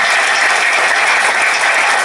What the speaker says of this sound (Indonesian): Oke, tepuk tangan teman-teman, untuk teman-teman semua.